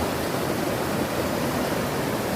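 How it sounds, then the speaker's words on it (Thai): Broad, steady rush of water from a large forest stream at a river headwater, loud and continuous with no breaks, close by and alone without voices. "สายน้ำใหญ่"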